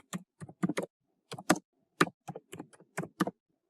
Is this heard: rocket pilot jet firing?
no